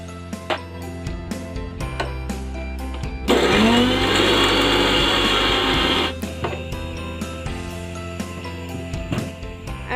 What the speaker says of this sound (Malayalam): അങ്ങനെ നമ്മൾ തേങ്ങ നല്ലതുപോലെ പേസ്റ്റ് രൂപത്തിൽ അരച്ചെടുത്തിട്ടുണ്ട്